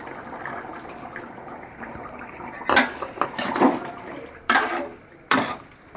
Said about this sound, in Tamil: புளி தண்ணியை இதில் கலந்துக்கிறேன்.